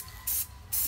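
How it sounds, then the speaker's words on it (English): Two short bursts of aerosol spray glitter aimed at a mannequin head, each a loud, close hiss lasting about a sixth of a second with a quiet pause between them. "if you spray it close up on the mannequin head, then you're going to spray your glitter out of the way of it"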